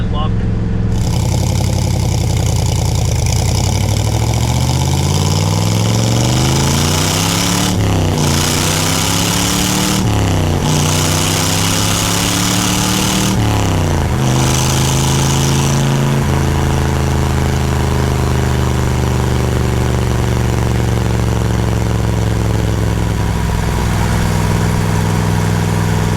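A C2 Corvette with side exhaust idles throughout, a loud, steady low rumble with a few blips of revving, and a person talks over it.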